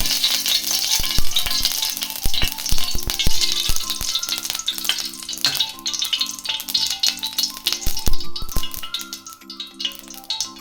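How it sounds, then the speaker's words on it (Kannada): Hot oil sizzles and crackles steadily as mustard seeds, chana dal and urad dal are tempered in a pan, with sharp pops and some background music, no speech. "ಒಗ್ಗರಣೆ ಹಾಕ್ತಿದ್ದೀನಿ."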